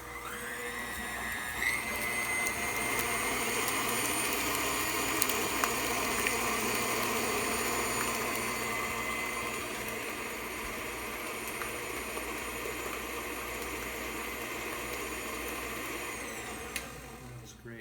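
An electric mixer whirs steadily while mixing chocolate chip cookie dough with butter in a kitchen, a continuous motor hum that holds for most of the time before winding down.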